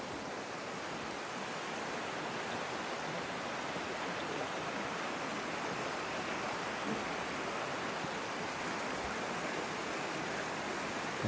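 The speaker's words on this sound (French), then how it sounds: "ce bruit de l'eau, ce ruissellement, c'est vraiment pas mal." Water trickles and splashes down the small Cascade du Rossignolet near Mont-Dore, a steady, soft, broadband rushing that carries on alone and unbroken, heard fairly close.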